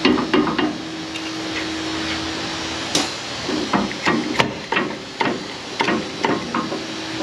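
Hammer blows seating a CV axle onto the intermediate shaft of a Ford F150 6.2 4x4, with a dozen or so sharp metallic knocks at an irregular pace, close and loud, alongside a faint steady hum.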